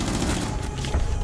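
Dense, heavy gunfire in a shooter video game, a loud continuous rumble of overlapping shots and booms over about a second, without clear gaps between reports.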